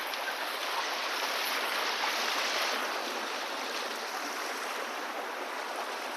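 Steady rushing water flows continuously, a broad, even hiss of a stream near a waterfall, with no voices.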